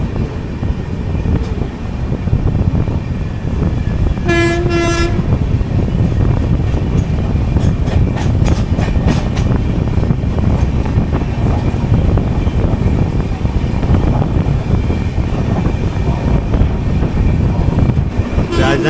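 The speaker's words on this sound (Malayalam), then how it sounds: "Yes, Madgaon Hazrat Nizamuddin Rajdhani express." Madgaon–Hazrat Nizamuddin Rajdhani Express rushing past with a steady loud rumble and wind roar, its horn sounding briefly near the start amid continuous rail noise.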